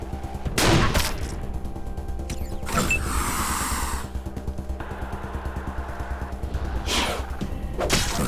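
Gunfire in Wasteland 2, a few sharp shots spaced apart over a steady mechanical hum, with metallic clanks between the blasts.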